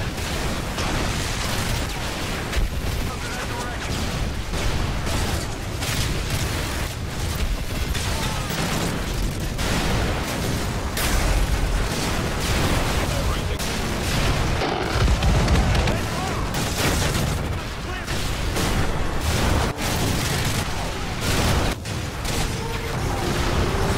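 Constant explosions in Call of Duty: Modern Warfare 3, dense and loud, booming blasts and bursts of gunfire packed together with hardly a break, a continuous wall of battle noise.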